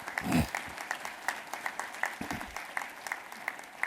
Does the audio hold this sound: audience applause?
yes